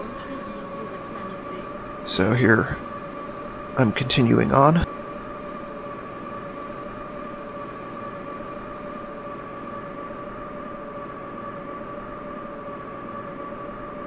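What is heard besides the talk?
subway train running in a video game train simulator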